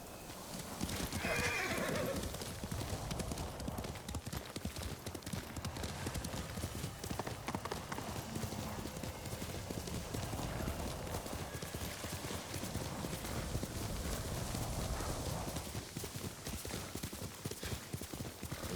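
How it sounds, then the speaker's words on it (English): Horse hooves clip-clop steadily across open ground in the samurai video game Ghost of Tsushima, with a clear neigh early on and the rhythmic gait continuing throughout amid ambient game sound. "You're a good horse, Nobu."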